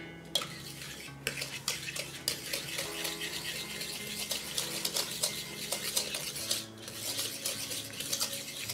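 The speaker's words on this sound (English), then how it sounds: "So this is a Danish whisk, not a Dutch whisk, but I find that that works pretty well for these kind of batters." A Danish dough whisk beats sugar, softened butter and water into batter for Dutch almond lace cookies, giving repeated close clinks and scrapes against the bowl in an irregular stirring rhythm, with no talking.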